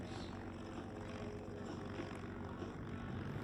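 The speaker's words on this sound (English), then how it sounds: "the CA18 Mustang flying with the CA13 Boomerang" Propeller-driven warbirds, a CA18 Mustang and a CA13 Boomerang built by Commonwealth Aircraft Corporation, fly past at an airshow, giving a steady loud engine drone with a broad roar that holds unbroken throughout.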